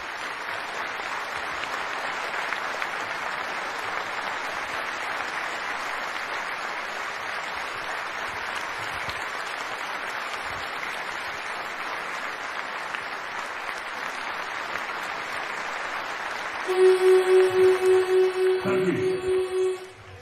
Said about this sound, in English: We were just hearing a moment's applause for Simon Cole, ex-Chief Constable of Leicester Police